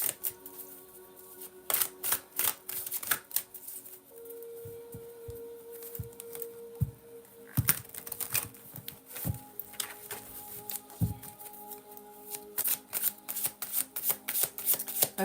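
Grand Lux tarot cards being handled and shuffled, with repeated crisp riffling and slapping bursts in quick irregular clusters, close and fairly quiet over a low steady background hum.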